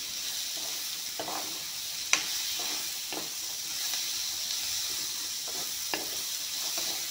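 Peas fry with onion, green chili, garlic and coriander leaves in an old wok, a steady close sizzle broken by occasional scrapes and clicks of stirring.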